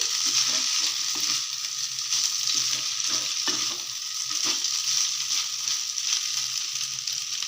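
Egg semiya sizzling in a pan while being mixed, a continuous bright frying hiss with soft irregular stirring scrapes and a couple of sharper knocks, close and without talk.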